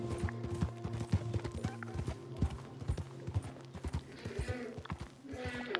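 White Arabian horse hooves clip-clop steadily in a video game, close, quick and even, with a brief snort or whinny near the end.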